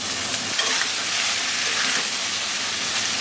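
Potato, pointed gourd, eggplant, tomato, taro stolons and green chilies fry in oil for a home-style chorchori, giving a loud, steady sizzle and hiss with faint stirring throughout.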